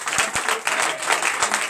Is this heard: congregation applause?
yes